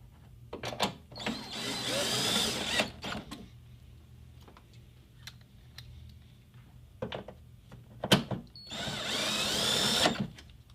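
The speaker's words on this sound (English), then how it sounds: "you can go ahead and reinstall those T40 screws" A power drill drives T40 screws back into the trunk of a BMW F30 during a power trunk retrofit, whirring loudly in two bursts of about two seconds each, separated by quieter clicks and handling noises.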